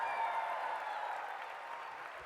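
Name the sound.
crowd applauding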